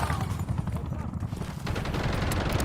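Rapid gunfire in Call of Duty Warzone Mobile, dense bursts of shots rattling steadily under background game sounds, fairly quiet overall with no clear voice.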